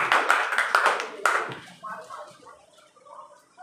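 A small group claps in a burst of quick, close handclaps that fade out after a second or so, followed by faint scattered sounds.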